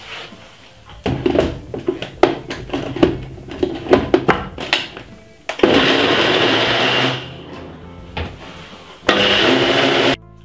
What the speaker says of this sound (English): blend this about 4 to 5 minutes on a good ninja blender like this one